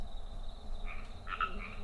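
A frog croaks in a pond setting, a few short raspy calls in the second half over a low steady background hum, moderately close and fairly quiet, with no talking.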